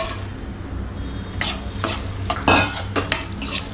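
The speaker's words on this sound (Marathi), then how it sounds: "आता हे आपले बदाम आणि अक्रोड आहेत ना, हे जरा तुपामध्ये जरा फ्राय करून घेते." Almonds and walnuts fry in ghee for rava ladoo, a soft, low sizzle punctuated by several sharp scraping and clinking strokes of a spoon stirring against the pan.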